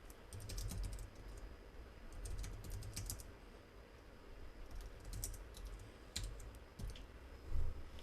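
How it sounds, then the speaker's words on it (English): Steady typing on a computer keyboard, with bursts of close, crisp key clicks coming in clusters and brief pauses over a low background hum, no talking. "We could continue to type into here"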